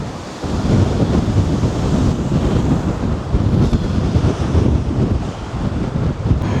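Savage high-tide waves pound the crumbling Blackpool sea defence while strong wind buffets the microphone, producing a loud, continuous roar of surf and gusts with no voices.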